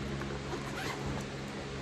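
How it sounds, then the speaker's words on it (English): A zipper on a BEIS dopp kit slides open smoothly in one steady, close pull, a soft continuous rasp with no talking. "So the zipper opens up like butter"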